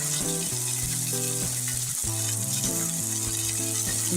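Black val beans frying with roasted onion and garlic in a pan, a steady close sizzle running the whole time, with no voices over it.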